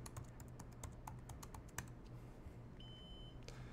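A Synology NAS gives a steady electronic beep late in the clip, clicks and key taps scattered throughout, over a constant low machine hum.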